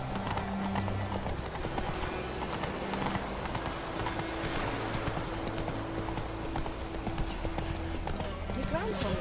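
Horse hooves gallop in a steady, rapid clip-clop through the whole stretch in the video game Witcher 3, mixed with game music and voices talking over it.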